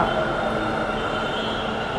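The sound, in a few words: metro train arriving at station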